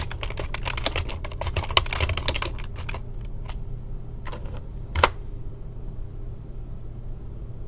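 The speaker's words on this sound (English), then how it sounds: "type in American population statistics" A Google search typed on a computer keyboard: a brisk, close stream of clicking keystrokes that thins into scattered single taps, with one sharper key press near the end, over a low steady background rumble.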